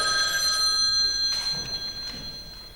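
A telephone bell rings indoors with a bright, insistent trill that starts loud and fades slightly, with no talking over it.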